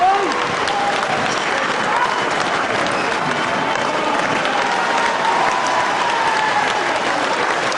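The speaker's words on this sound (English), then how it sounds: "And listen to that crowd." A packed crowd at a professional wrestling bout, a European middleweight title match, roars and applauds continuously, a dense wash of cheering and clapping with some shouts rising above it, loud and sustained throughout.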